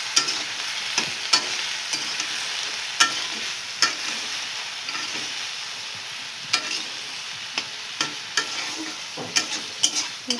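A spatula scrapes and stirs through a potato and eggplant curry frying in a pan with turmeric just added, giving steady close sizzling broken by irregular sharp utensil knocks and scrapes throughout, with no talking.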